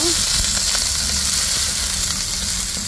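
Chopped onions hit a hot frying pan while ginataang talong is being cooked, giving a loud, continuous hissing sizzle that stays steady throughout, with a faint voice briefly audible beneath it.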